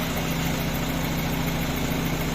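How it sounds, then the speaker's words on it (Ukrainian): An Audi A3 with a 2.0 FSI engine idles steadily after injector cleaning, a close, even mechanical hum and pulse with no talking. "Ось так у нас працює двигун, працює стійко, не трусить його."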